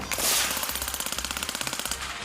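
Rapid automatic gunfire salute from Ukrainian paratroopers and mountain infantry at the front line, loud bursts of closely spaced shots in a steady rhythm with no speech.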